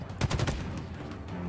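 Gunfire from the Halo campaign on legendary difficulty: a short cluster of several rapid, loud shots early on, then fading into a lower rumble of game ambience.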